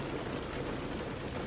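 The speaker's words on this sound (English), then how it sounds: "it's pissing like hell here" Heavy summer rain pours down in a small town, a constant, dense hiss of falling water heard alone and at a steady level throughout the short stretch.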